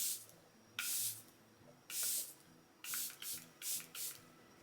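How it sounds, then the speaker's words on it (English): Charlotte Tilbury Airbrush Flawless primer spray is misted onto a face in several short hissing bursts, two longer sprays followed by quicker puffs, close and fairly quiet with a faint hum between them. "so I'm just going to go ahead and spray this."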